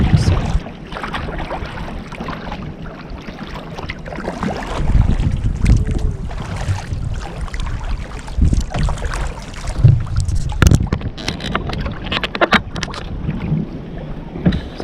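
A kayak glides across Lake Wassookeag on an afternoon paddle, with continuous water swishing and lapping near the hull, paddle splashes and heavy wind buffeting the microphone throughout.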